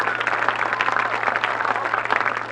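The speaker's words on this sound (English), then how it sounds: "Let's give a huge round of applause to all of these wonderful men and women" Sustained applause from a crowd at a football game, honoring educators, dense and even clapping for a few seconds with a faint low hum beneath.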